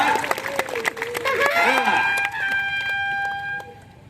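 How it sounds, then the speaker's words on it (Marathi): A crowd at a village wrestling (kusti) akhada during the Siddheshwar yatra in Kuroli gives a short burst of clapping under a loud voice on a sound system, followed by sustained horn-like tones. "टाळ्या करा की जरा गावाला या टाळ्या करा जरा पुरवलीला"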